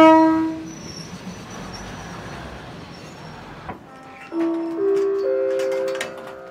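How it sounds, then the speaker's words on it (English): A train rolls through the Bangkok railway market, its horn blaring in long tones, then a steady rumble of passing cars, then more horn blasts, loud and close with no talking. "The train passed and the food trays moved back"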